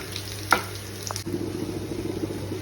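Fish being sautéed with ginger paste and a little water in a pan, with soft stirring and a steady low sizzle, plus one sharp clatter near the start as the fish goes in.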